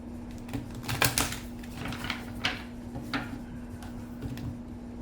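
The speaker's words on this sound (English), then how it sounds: "my hands are starting to get fumbly from shuffling cards" Crisp, irregular riffling and snapping of tarot cards being shuffled close up, with quick flurries and pauses over a faint steady hum.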